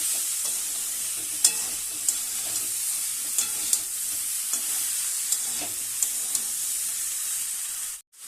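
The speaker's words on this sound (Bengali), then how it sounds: "কিছুটা সময় নিয়ে কিন্তু নেড়ে চেড়ে নিতে হবে।" Vegetables for vegetarian pulao stirred as they fry in a pan, a bright continuous sizzle broken by regular scraping knocks of the spatula, ending abruptly.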